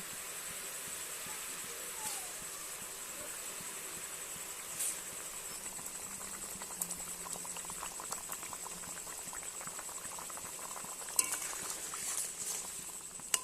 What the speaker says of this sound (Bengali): ঝোলটা আমার ফুটে উঠেছে